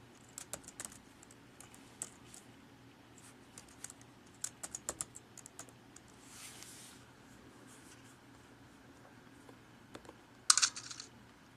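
Light keystrokes tap on a Mac computer keyboard as a password is entered, soft and close in a quiet room, coming in irregular short clusters with pauses between them.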